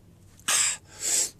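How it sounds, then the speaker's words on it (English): One person sneezes twice in quick succession, close and loud, with a sharp burst followed by a second, softer expulsion. "I was going to say I'm going to sneeze, but I didn't even get it out before I did"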